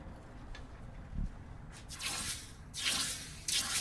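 Water for quenching heated metal at a log cabin village forge gives a quiet drip, then bursts of hissing and splashing that come and go, close to the microphone.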